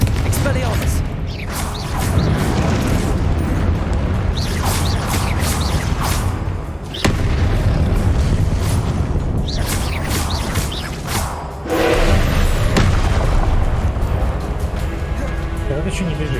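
Blasting spell explosions from Hogwarts Legacy, a game: repeated booming blasts and whooshing magic effects layered over constant game noise and music, with someone speaking over much of it.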